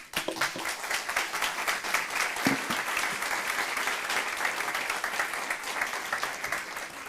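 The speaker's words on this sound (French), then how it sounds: "Merci, on les applaudit." An audience at an open source conference plenary claps for the panel speakers, a steady, even wash of applause that holds throughout without pause.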